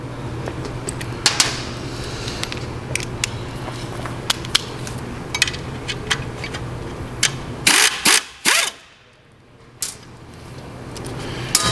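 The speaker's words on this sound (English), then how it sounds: "you're going to need a 5/16 socket to remove these 3 screws" A 5/16 socket wrench backing screws out of a Power Trim edger, close repeated ratcheting clicks in short bursts, then a brief near-silent pause before the handling noise resumes.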